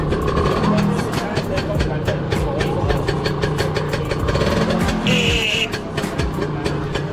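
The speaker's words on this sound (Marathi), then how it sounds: "1959चे लॅम्बर्टा तिच्या मालकांनी चालू करून दाखविले." The engine of a 1959 Lambretta scooter at a vintage car and bike show chugs at idle, a close, steady putter with rapid rhythmic pulses, while people talk around it and crowd noise carries in the background.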